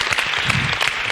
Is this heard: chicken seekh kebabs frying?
no